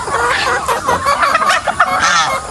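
Loud, dense clucking from a flock of chickens kept under a house, many birds calling over one another close by, with no talk.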